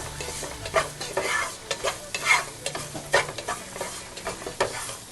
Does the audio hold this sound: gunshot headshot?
no